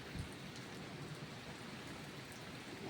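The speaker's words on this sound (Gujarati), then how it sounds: "વરસાદ અને વાવાઝોડાના દ્રશ્ય" Steady rain pours down in a constant hiss during a windstorm, a broad rushing wash with no talking, heavy and unbroken throughout.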